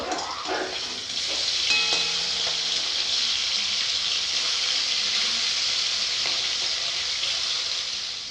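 Fish sizzles continuously in hot oil, a dense, even crackle holding steady from start to finish with a soft clink early on.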